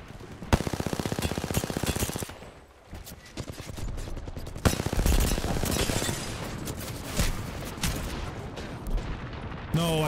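Gunfire in Apex Legends, rapid automatic bursts rattling close and loud, pausing briefly near the third second before heavy firing resumes and continues to the end.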